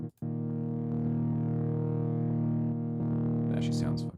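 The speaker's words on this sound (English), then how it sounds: "That distortion, oh yeah." A steady, buzzy distorted synth tone drones loudly for several seconds, cutting out briefly before a glitchy burst at the end.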